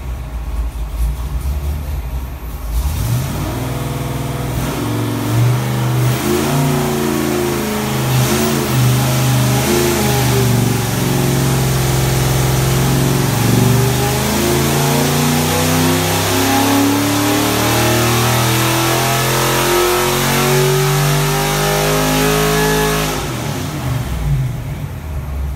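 A Ford 331 stroker V8 with AFR 165 heads revs on a dyno, a loud continuous roar that climbs steadily in pitch over about twenty seconds before cutting back, close and dominant with no talk.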